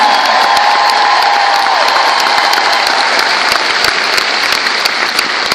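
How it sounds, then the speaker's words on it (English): A large seminar audience applauds the backstage staff, a dense, loud, sustained wall of clapping with scattered cheers and whoops running through the whole stretch. "Give them a huge round of applause."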